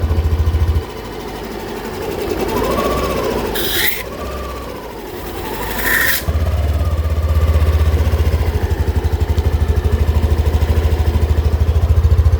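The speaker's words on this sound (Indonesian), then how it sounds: "Ini untuk suara mesinnya ya." A 2023 Yamaha Aerox scooter with about 22,000 km on it idles steadily with a deep, bassy exhaust drone. The engine keeps an even, close rumble throughout, with a couple of brief higher-pitched sounds partway through.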